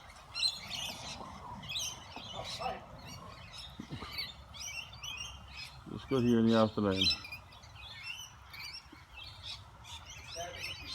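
Lorikeets and parrots gathered at a feeding spot chirp and twitter in quick, bright bursts, with one loud harsh squawking call in the middle, while someone speaks briefly nearby.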